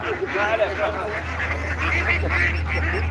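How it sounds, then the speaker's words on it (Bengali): Ducks quack and honk at a morning market in Riyadh, a busy cluster of calls over a steady low hum, with people talking nearby. "এই যে হাঁস সৌদি আরবের মতো জায়গাতে হাঁস পাওয়া যায়"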